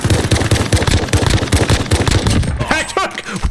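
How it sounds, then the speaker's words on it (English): Rapid, loud bursts of automatic gunfire rattle in a shooter video game, a dense run of shots lasting a few seconds before ending in ricochet-like pings. "Way too many bullets"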